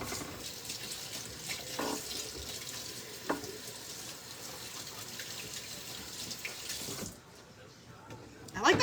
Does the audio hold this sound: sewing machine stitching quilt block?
no